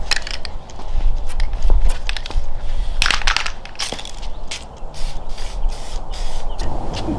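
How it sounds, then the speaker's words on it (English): A long hissing spray of Loctite spray adhesive runs near and steady, broken by a few short bursts and crinkly handling noises of carbon cloth across several seconds. "So to actually get the carbon cloth to stick to it, I'm just using Loctite spray adhesive."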